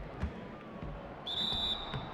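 A referee's whistle on a basketball court in NBA 2K17, Mavericks versus Trail Blazers, sounds as one sustained shrill blast midway through, over a low arena bed with a dull ball bounce.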